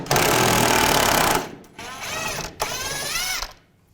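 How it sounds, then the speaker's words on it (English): Power ratchet or impact tool with a 15mm socket spinning a bolt out of a 2007-2013 Chevrolet Silverado spare tire carrier, a loud rapid rattling burst followed by two shorter whirring runs, close up. "Using a 15mm socket, take this bolt out."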